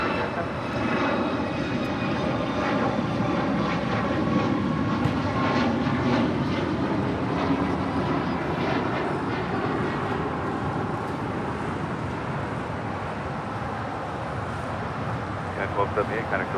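An airliner takes off from runway 25 right at LAX, its jet engines building into a loud, sustained roar with a shifting whine, while voices talk over it.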